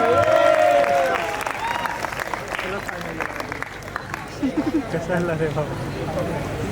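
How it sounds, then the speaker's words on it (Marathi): An audience claps for the choreographers at a sangeet celebration, a dense burst of applause that fades into lighter scattered clapping amid crowd chatter, with voices over it. "प्लीज त्यांच्यासाठी एक जोरदार टाळ्या वाजवा."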